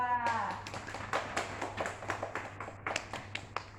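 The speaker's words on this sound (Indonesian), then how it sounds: "Beri tepuk tangan kepada kelompok 2" Students in a classroom clap for a small group, a brief round of sharp, fairly close hand claps in an uneven rhythm that thins out toward the end.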